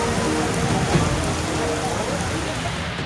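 Heavy rain pours down steadily, a dense, loud, unbroken hiss of drops hitting surfaces close by, with no other sounds standing out.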